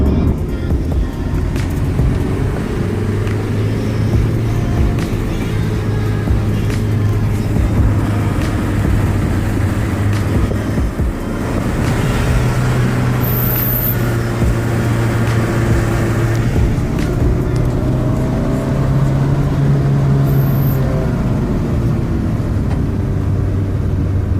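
Steady, loud drone of a Nissan Bluebird T72 2.0 engine cruising in fourth gear, with road and wind noise in a constant cabin hum and slowly shifting engine tones throughout.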